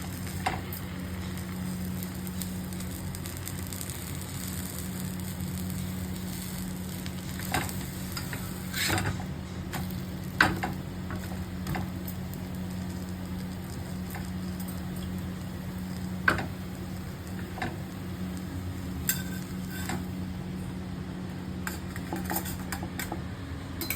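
Onion dosa batter cooks on a hot pan, giving a soft steady sizzle with occasional sharp clicks and scrapes of a spatula or utensil against the pan.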